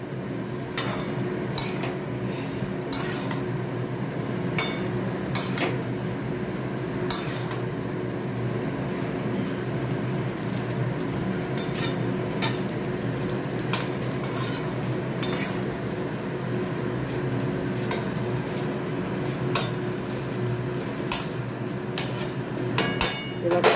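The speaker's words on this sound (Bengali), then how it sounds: "কাঁচা লঙ্কাটা বেটে নিই" Green chillies being ground on a stone slab in a home kitchen, a steady scraping and grinding texture with repeated sharp clinks and knocks of stone on stone, fairly close and continuous, with no talking.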